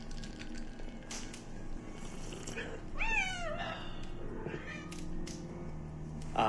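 A cat meows once, a short rising-falling call near the middle, heard over a steady low room hum and faint background noise.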